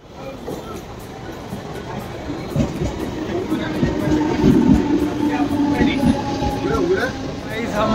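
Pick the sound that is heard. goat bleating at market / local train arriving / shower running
local train arriving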